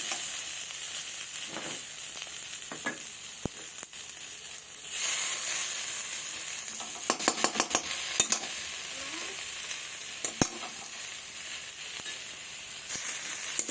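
A paste of chopped tomato with ground dried chilli, cumin, ginger and onion frying in a pan, a continuous close sizzle and hiss punctuated by clattering stirs and scrapes of a spatula.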